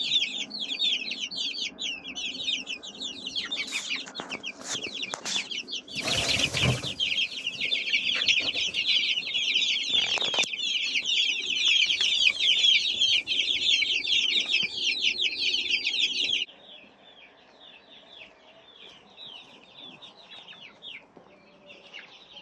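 Young chicks crowd a poultry farm shed, a dense chorus of high peeping carrying on without a break, with a few knocks and clatters partway through; the cheeping drops to a thinner, quieter chorus for the last few seconds.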